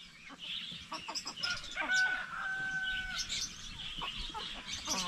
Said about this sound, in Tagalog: Yung mga manok natin na Jersey Giant